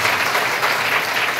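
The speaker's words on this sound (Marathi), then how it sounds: "जरा जोराने टाळ्या वाजवल्या बरं" Loud, dense clapping from a village crowd at a religious sermon (satsang pravachan) fills the whole short moment, close and steady with no voices.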